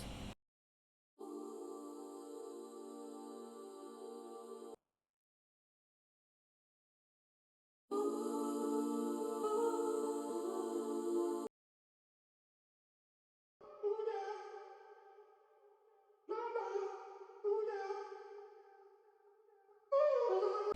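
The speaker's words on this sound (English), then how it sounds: "from Slice I got these vocal loops or vocal chops" Short sung vocal chops come in separated bursts with gaps of silence, each washed in reverb; later fragments are choppier and overlap in quick succession.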